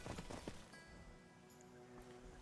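Rapid clip-clop of horse hooves in modded Skyrim with a game-like, processed quality, busier at first then settling into a steady trot under a faint tonal hum.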